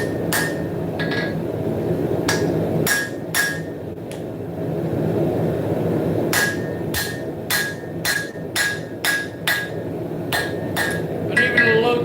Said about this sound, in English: What I'm going to do, just some light hand forging